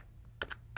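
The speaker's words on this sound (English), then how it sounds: "So I'll type" A URL is typed on a computer keyboard as a quick, faint run of three or four sharp key clicks in a quiet room.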